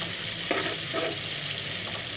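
Cauliflower frying gently in a pan gives a soft, steady sizzle with a few faint stirring scrapes, fairly quiet and close, with no voices.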